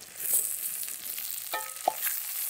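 Tomatoes dropped into a pan of softened, frying shallots for a Kadai pepper fry, giving a steady close sizzle with a couple of sharp splashy bursts as they hit the oil.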